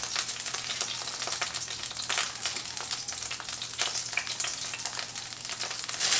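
Minced garlic sizzles and fries steadily in a pan with leftover chicken drippings, flour, salt and pepper, a continuous dense crackle with occasional louder pops and scrapes throughout.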